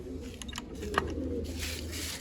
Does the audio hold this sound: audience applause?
no